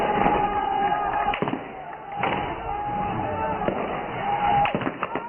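Sharp gunshots from filmed shooting footage crack out several times at irregular intervals over a steady background murmur, with voices faintly audible beneath.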